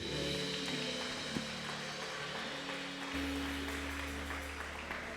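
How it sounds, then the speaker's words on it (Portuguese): A church congregation applauds during a worship service, a soft, steady wash of clapping that sounds somewhat distant and muffled, with a low hum beneath it. "você pode aplaudir a Jesus"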